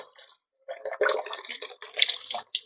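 Prepared car shampoo solution pours into a container of water in short bursts, a bubbling, splashing liquid sound with brief gaps, close and moderately loud with no talk over it.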